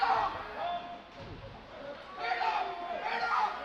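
Rowdy spectators at a Bayview versus CPA hockey game during the third period, a swelling roar of cheering and chatter that dips and rises again, heard from within the arena.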